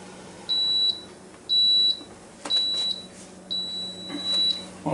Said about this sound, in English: it's beeping that it's done.